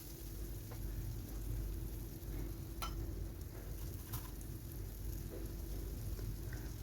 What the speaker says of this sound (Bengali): আলুটা 1 মিনিটের মতো ভেজে নিলাম।